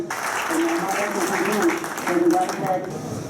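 Audience applause greets an honored guest at a grand Ujjwal Bharat Ujjwal Bhavishya function in Ramban, a steady broad wash of clapping running throughout with voices and announcements audible over it.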